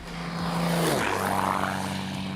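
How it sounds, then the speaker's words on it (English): An Extra 330 SC aerobatic propeller airplane flies past at an air show, its engine drone swelling loud and then sliding down in pitch as it passes close by, with no talk. "for me to fly air shows in this beautiful extra 330 SC"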